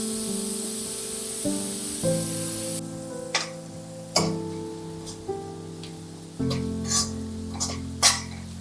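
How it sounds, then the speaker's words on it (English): Onions fry on high heat in a pan for a village chicken curry, a steady close sizzle with a few sharp stirring clacks and scrapes, over a low tonal hum from the surroundings. "After 7-8 minutes of frying on high heat, our onions have got quite red."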